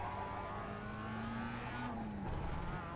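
Mazda MX-5 race car at Tsukuba in a racing simulator accelerating hard out of a corner, a steady engine drone whose pitch climbs and then drops at a shift, with faint tyre noise.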